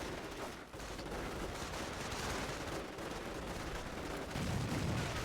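Artillery fire and gunfire in Company of Heroes, a real-time strategy battle game, with a dense continuous barrage of booms and shots that builds louder toward the end, no voices.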